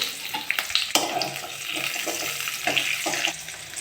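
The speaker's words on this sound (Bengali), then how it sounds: "এবার আমি কেটে রাখা পেঁয়াজগুলো দিয়ে দেবো" Chopped onions hit hot oil that already holds browned garlic, setting off a loud sizzle with sharp crackling pops. The frying then settles into a steady, hissing bubble.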